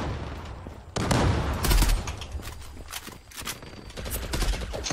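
Rapid gunfire in the online shooter Zula during a clan match, with loud bursts of automatic fire and scattered single shots repeating over several seconds, close and punchy.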